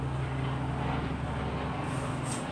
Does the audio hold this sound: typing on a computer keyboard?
no